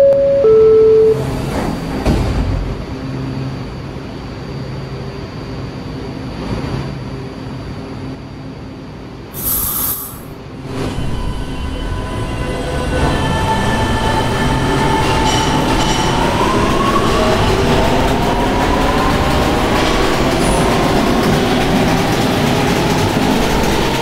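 Simulated subway train running in the Roblox game PTA, a D train of PST-4R stock: a rising motor whine and steady rolling rumble build as the train accelerates, with an earlier door chime and clunk, loud and continuous with no talk.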